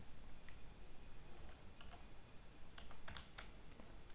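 Someone types on a computer keyboard in quick irregular clicks, sparse at first and then in a closer burst of keystrokes, over a steady low background hum.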